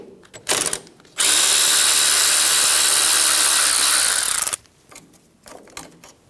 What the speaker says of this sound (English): Using a 10mm socket, remove the ABS bracket off of the upper control arm.